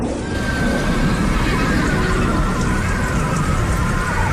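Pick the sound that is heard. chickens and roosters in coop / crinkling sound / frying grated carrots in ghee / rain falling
rain falling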